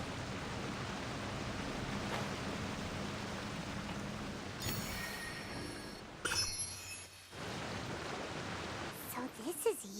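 A waterfall in the video game Genshin Impact gives a continuous soft rushing wash, with brief brighter bursts of other game sounds cutting in partway through.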